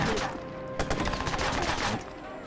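Rapid gunfire bursts from a Watch Dogs game firefight, dense overlapping shots and crackling across the clip, with a brief voice mixed in.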